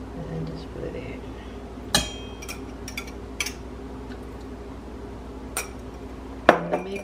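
A spoon stirs gluten-free almond cookie dough bound with egg white in a bowl, producing a few scattered clinks and taps spaced several seconds apart over a quiet background, with faint talk early on.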